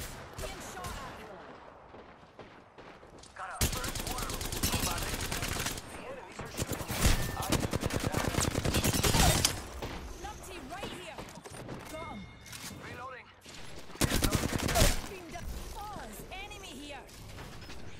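Bursts of gunfire in the battle-royale game Apex Legends, played as Horizon: loud, dense volleys in several clusters amid mechanical clicks and game effects, with voices speaking between the bursts.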